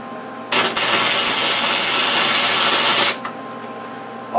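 Tack welding a gate return spring onto metal makes a loud, harsh, steady crackling hiss that starts abruptly, holds for about two and a half seconds, then cuts off, heard up close with no talking.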